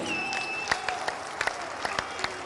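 A crowd at an election rally addressed by Amit Shah in Saraikela, Jharkhand, gives sparse, scattered applause. The individual claps are distinct and fairly faint over a low murmur.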